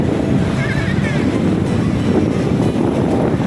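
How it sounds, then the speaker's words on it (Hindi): Sea waves roll in at Digha beach as a constant loud wash of surf, heavily mixed with wind buffeting the microphone, while a faint voice is heard briefly. "ये सी बीच है, दीघा सी बीच, और पानी की लहरें देखिए कैसे आ रही है।"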